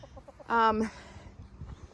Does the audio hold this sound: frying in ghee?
no